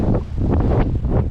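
Strong gusty wind buffeting the microphone at an exposed hilltop rock site with ancient Jain carvings, a continuous low roaring rush that swells and eases in uneven gusts.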